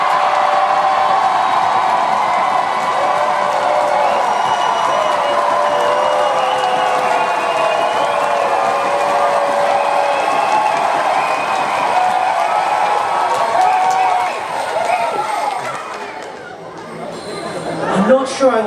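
A festival crowd cheers, claps and whoops for a circus performer, a loud, steady wall of applause and shouting that dips near the end before a few voices rise again.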